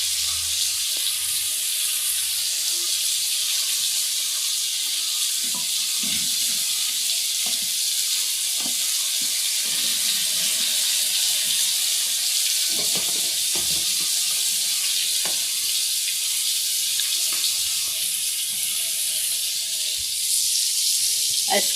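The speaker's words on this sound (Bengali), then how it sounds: "আর এইদিকে যে পটল ফালি দিলাম ভাজি করার জন্য চুলার উপরে" Slices of pointed gourd fry in a pan on a home stove, a steady bright sizzle running throughout with faint clinks and stirring noises beneath, close and even in level.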